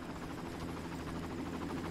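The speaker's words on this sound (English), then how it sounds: "Okay, I hear the chopper now." A video game helicopter's rotor chops steadily at a distance, a faint, rhythmic thudding drone holding level throughout.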